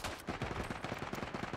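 Rapid machine gun fire in the World War I shooter Isonzo, a fast rhythmic burst of roughly a dozen sharp shots, close and fairly loud, with no talking.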